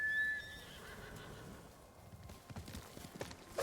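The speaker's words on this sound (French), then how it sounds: "Il est où mon cheval?" Horse neighing in the video game Ghost of Tsushima, a shrill whinny at the start followed by quieter hoof clip-clops and game sounds, with light ambient noise after.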